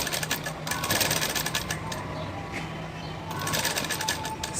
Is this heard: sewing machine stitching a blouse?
yes